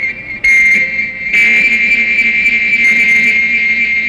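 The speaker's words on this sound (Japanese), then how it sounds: "デスホイッスル。" A steady, piercing whistle tone, the Death Whistle from the 1972 Kikaider tokusatsu series, held continuously and loud with a sharp jump in level after the start.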